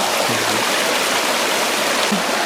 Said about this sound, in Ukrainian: два маленькі струмочки